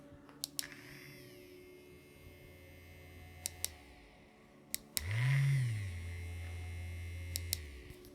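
An EMALLA Grand tattoo pen motor running at 5 volts with kickstart on, a faint low hum that briefly surges and rises in pitch as it kicks up, then settles into a steady drone with occasional clicks.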